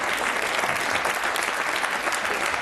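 A studio audience gives Yves Lecoq a dense, sustained round of applause, loud and even throughout, with no pauses.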